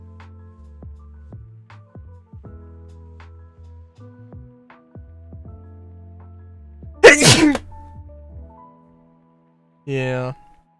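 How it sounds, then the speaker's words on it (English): A single loud sneeze bursts out after quiet stretches of faint clicks and low hum. A short, higher vocal sound follows a few seconds later. "So I'm gonna sneeze here in a second."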